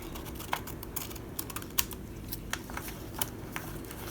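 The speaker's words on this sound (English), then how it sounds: "we're going to cut straight up here" Scissors snipping straight up and across a paper fold for a tall junk journal envelope, a string of crisp close clicks and short cuts at an uneven pace with no talk.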